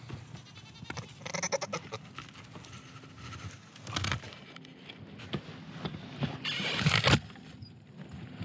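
Goats bleating close by in several separate loud calls, some wavering and drawn out, over a background of shuffling and rustling movement.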